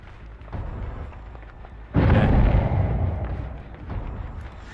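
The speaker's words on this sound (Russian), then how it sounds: "они два раза подряд взрывают" A generator exploding in the video game Dead by Daylight: a sudden loud, booming blast that swells and then rumbles away over a couple of seconds, set against low background game ambience.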